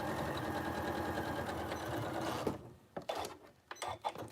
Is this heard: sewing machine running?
yes